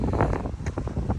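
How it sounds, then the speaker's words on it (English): Wind gusting and buffeting the microphone during a rainy marathon run, a loud rough rumble that rises and falls in short bursts. "It's windy, rainy."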